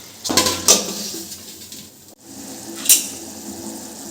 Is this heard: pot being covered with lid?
yes